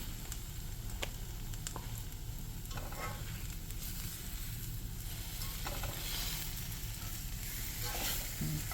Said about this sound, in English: Let that sizzle a minute.